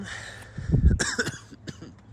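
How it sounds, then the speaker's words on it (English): A short burst of allergy coughing close to the listener, a couple of rough throaty coughs in quick succession. "Stupid allergies, making me cough and making my throat feel all stuffed up."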